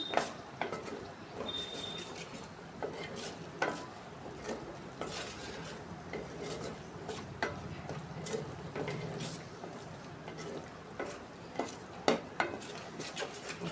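A spoon stirs ridge gourd and dried prawn curry in a pan, scraping and clinking against the metal in soft, irregular strokes over a low sizzle.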